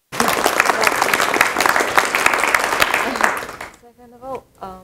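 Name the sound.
clapping applause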